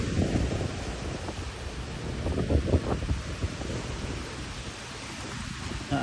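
Steady outdoor wind in Bali roars and buffets across the whole stretch, a broad continuous rush with gusty swells and no speech over it.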